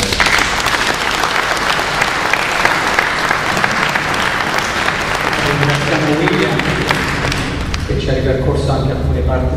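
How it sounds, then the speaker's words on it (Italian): An audience at a commemorative talk breaks into loud, sustained applause lasting most of the clip, then tapers off as a voice begins speaking near the end. "E qui partì un applauso."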